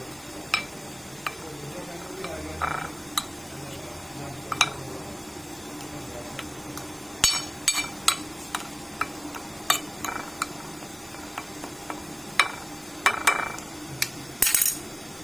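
Chicken pieces being mixed by hand in a bowl for fried chicken, with soft wet squelching and scattered sharp clinks and taps of utensils against the dish, fairly close and quiet, without talk.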